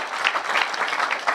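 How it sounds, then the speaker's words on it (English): Audience applause for a speaker named Cookie at a talk, a brief burst of steady clapping from a small crowd that fills the room without voices. "Give him a round of applause."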